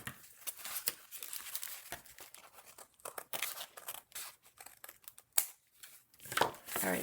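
Scissors snipping through paper at a craft table while making an accordion envelope pouch, a series of irregular crisp cuts and rustles with pauses between, close to the listener, with no talking.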